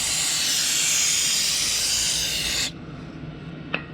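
Gritty rubbing hiss from a Subaru crankshaft repair sleeve being worked, a loud continuous rasp that stops abruptly partway through, followed by quieter noise and a single faint tap.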